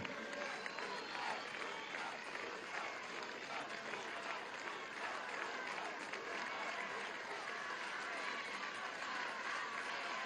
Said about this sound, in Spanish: vamos a darle un aplauso a los gobernadores y gobernadoras de los 19 estados gobernados por la revolución.